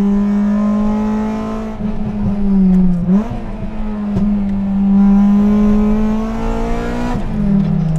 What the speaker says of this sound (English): So much louder. It's got a full titanium exhaust,